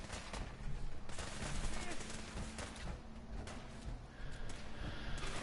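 A sustained, dense barrage of gunfire during a fight in Fallout 4, shots overlapping into a continuous rattling roar that stays fairly loud throughout, with faint voices mixed underneath.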